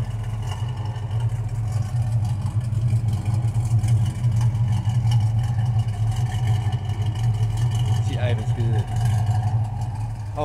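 A 1969 Chevrolet Camaro Z28 V8 idles with a steady, deep low rumble throughout, close by, while people talk over it.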